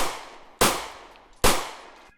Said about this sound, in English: gunshot sounds, please.